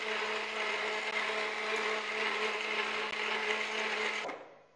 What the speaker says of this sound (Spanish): Un minutico en la licuadora, que quede bien frappé.